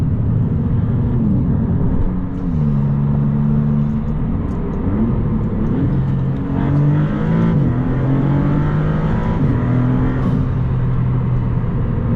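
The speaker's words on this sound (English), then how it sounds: "let's see what it's like accelerating full throttle in GT mode." A 2022 Maserati MC20's engine roars under full-throttle acceleration in GT mode, its pitch climbing and dropping through several gear shifts, loud and close throughout.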